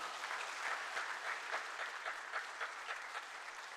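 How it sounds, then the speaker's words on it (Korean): A church congregation at a Korean worship service claps together in sustained, even applause that sounds moderately distant and continues steadily for several seconds. "하나님 앞에 영광과 감사의 박수 올리겠습니다"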